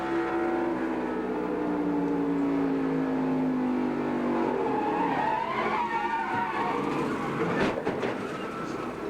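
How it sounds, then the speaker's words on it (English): A 1996 NASCAR race car roars at the Jiffy Lube 300, heard from the in-car camera during a violent crash: a loud engine drone with falling pitch, then grinding, scraping impact noise. "Here's a look from Jeremy Mayfield's in-car camera."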